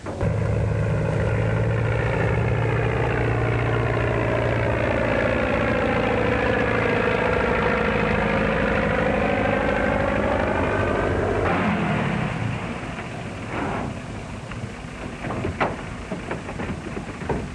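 An airplane engine in a 1930s setting warms up, a loud, continuous droning rumble that holds steady for a long stretch, then shifts and settles into a rougher running sound.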